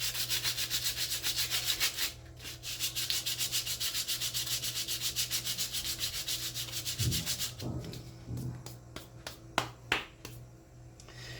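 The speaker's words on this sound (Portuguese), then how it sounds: "deixa eu lixar embaixo" Sandpaper rubs rhythmically against the underside of a small cold porcelain craft piece, a close, steady scratchy back-and-forth for about seven seconds, then scattered light taps and handling noises.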